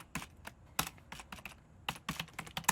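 Typing on a computer keyboard: irregular bursts of sharp key clicks with brief pauses between clusters, moderately close and alone without talk.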